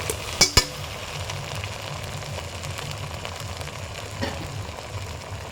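Ginger-garlic paste fries in hot oil with a continuous close sizzle; two sharp metallic utensil clinks ring out at the start, and a faint scrape follows later.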